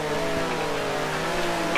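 A 1965 race car slides sideways in Grand Prix Legends at the British Grand Prix, its engine a steady, close, buzzing drone whose pitch sinks slowly as it loses speed.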